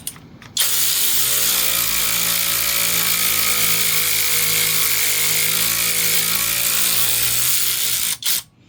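A SeeSii cordless power ratchet wrench runs in one continuous loud motor whine for about eight seconds, its pitch sagging as it labours and stalls, with brief pauses at the start and end.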